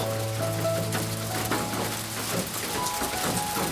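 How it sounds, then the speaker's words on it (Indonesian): Constant patter of rain drumming on a tiled roof, dense and crackling, with a faint tonal hum in the background. "Suara berkeretakan terdengar menimpa genting di atas bubungan rumah."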